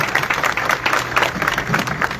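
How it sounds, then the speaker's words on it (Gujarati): A crowd of women and mothers at a political rally claps in sustained, dense applause, fairly close and loud, with faint voices mixed in. "લોકો માટે તાળી થઈ જાય"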